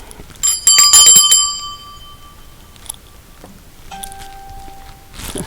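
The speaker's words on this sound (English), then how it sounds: "Another bell." A bicycle-type bell rings twice up close with a bright, ringing tone that fades slowly, then a second softer ding follows, with faint handling noise and footsteps between.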